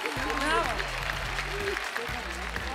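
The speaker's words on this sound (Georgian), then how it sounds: "კიდევ ერთხელ აპლოდისმენტები" An audience applauds at a live televised X Factor talent-show concert. The clapping runs steadily beneath a presenter's loud talking.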